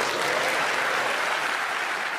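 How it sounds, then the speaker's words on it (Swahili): Lawmakers in Japan's parliament applaud, a dense, steady burst of many hands clapping that fills the chamber for a couple of seconds and then cuts off abruptly. "huku wabunge walipiga makofi wakati Sanae Takaichi"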